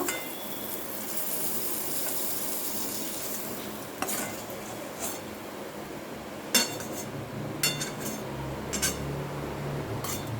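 Fried garlic, green chillies and dried chillies are lifted out of hot oil while a steady sizzle hisses underneath. Metal utensils give occasional clinks and scrapes against the pan, close and clear, with no speech.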